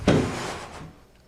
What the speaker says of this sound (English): let's see if there's anything in this drawer.